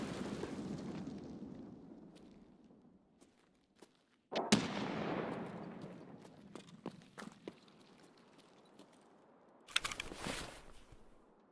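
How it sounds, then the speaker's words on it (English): Grenade blasts in the shooter Escape from Tarkov: a sharp, loud burst around the midpoint trailing into rumbling debris, a second burst near the end, and scattered cracks and footsteps between them. "They're throwing grenades at me."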